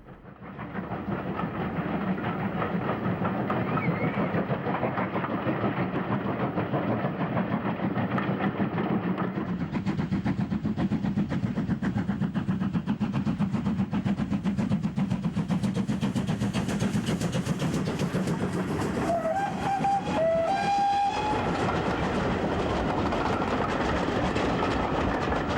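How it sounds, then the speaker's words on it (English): Steam locomotive 3440 City of Truro climbing a gradient, its exhaust beating in a crisp, even rhythm that stays loud and close throughout, with a whistle-like tone rising briefly near the end. "As the train climbs, the crisp sound and even rhythm of the exhaust shows the excellence of the steam distribution"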